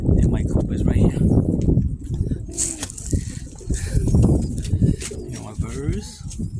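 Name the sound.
pet pigeons cooing at the coop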